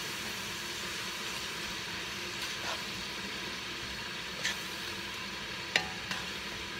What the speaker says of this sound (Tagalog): then hahalo lang natin doon sa ating pork meat